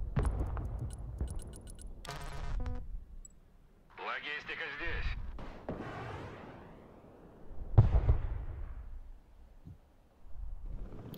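HIMARS rocket strike explosions in the Broken Arrow video game boom in several separate bursts with rumbling tails, mixed with radio-style chatter and a person talking in between.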